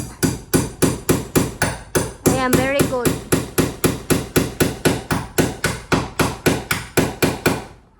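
Steady, rapid hammer blows strike over and over at an even pace, loud and close, with a short pause for a brief spoken remark midway.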